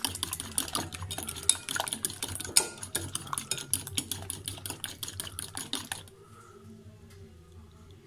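A utensil beats a French toast egg mixture in a bowl, a rapid, steady run of close clinks and taps against the dish for about six seconds before stopping, leaving near silence.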